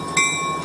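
A train rolls past residential buildings with a loud, steady rumble and a faint high squeal from the wheels. The sound gets louder just after it starts and then holds level.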